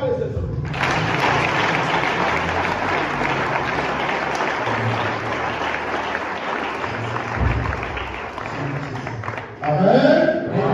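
A church congregation claps loudly and steadily in acclamation of Jesus, a dense wash of applause, probably with some cheering, that holds for about nine seconds and swells briefly near the end.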